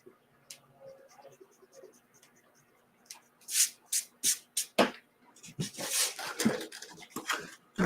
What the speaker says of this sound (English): if you get the end wet and your paint is still wet, you can come in and literally erase